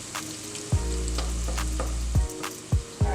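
Onions or shallots fry in a pan with a steady, close sizzle, broken by several sharp clanks or scrapes of a utensil stirring in the pan.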